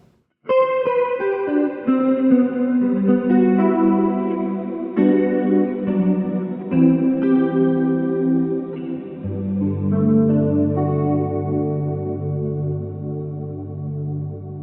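A guitar through a Line 6 Helix ambient preset with long swelling reverb and modulation, sustained chords blooming and washing into one another, loud and smooth with long tails and a deeper chord change near the end.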